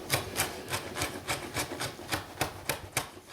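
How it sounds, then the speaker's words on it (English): A wood slick chisel pares a stump mortise in a log for building log stairs, giving about a dozen evenly spaced, sharp scraping strokes close by with no talk. "I'm going to use my slick to clean up the rest of it."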